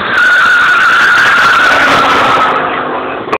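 A turbocharged Fiat Coupe Turbo race car drives on a circuit, its engine roaring loud and close with a sustained high tone and tire noise for about three seconds before it cuts off abruptly.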